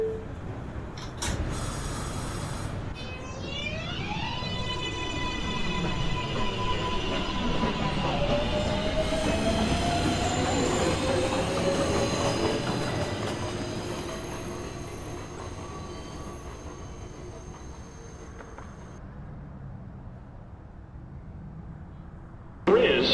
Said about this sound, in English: Local 1 train. Approaching the station.